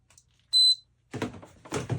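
A household appliance, likely a dehumidifier signalling a full bucket, gives a single clear electronic beep, followed by handling knocks and clunks nearby.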